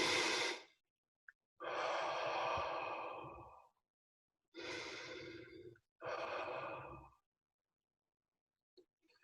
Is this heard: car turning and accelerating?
no